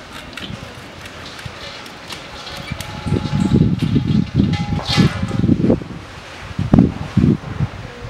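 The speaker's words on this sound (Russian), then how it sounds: "Второй день на улице, ветер гуляет." Gusty wind blows outdoors during brake caliper work on a Toyota Harrier, rumbling and buffeting loudly in uneven bursts close to the microphone.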